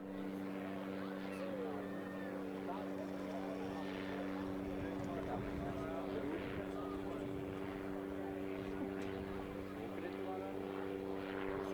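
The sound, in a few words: propeller aircraft descending at an airshow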